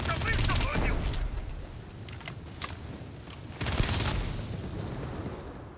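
Laser and gun fire from a firefight in the space RPG Starfield, with bursts of rapid shots early on and again near the end over a constant rumble of game sound.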